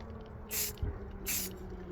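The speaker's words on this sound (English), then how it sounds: "Spray the bottom of it" Two short hissing bursts from a spray paint can, each about a quarter second, separated by a brief pause, with a soft thud between them.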